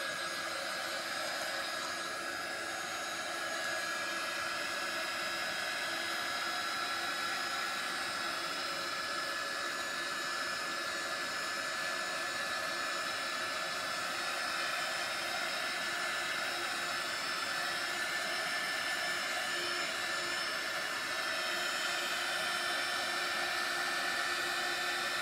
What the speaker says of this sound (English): So, let's see, heat tool. We're gonna heat up a little.